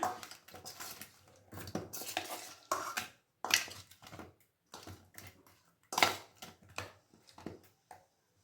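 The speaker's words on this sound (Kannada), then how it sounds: "ಈ ರೀತಿ ಸ್ವಲ್ಪ ಟರ್ನ್ ಮಾಡ್ಕೊಂಬಿಡಿ ಉಳಿದಂಥ ಮಸಾಲೆ ಎಲ್ಲ ಮಿಕ್ಸ್ ಆಗಿಬಿಡುತ್ತೆ" A spoon stirs and turns masala for oily bitter gourd gojju in a cooking pan, giving irregular scraping and clattering strokes close by, with soft sizzling between them.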